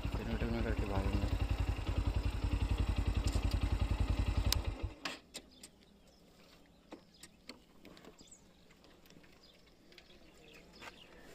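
A Bajaj Pulsar NS125 motorcycle engine runs loud and steady for about five seconds during a top-speed test, then cuts away to quieter clatter and faint background noise.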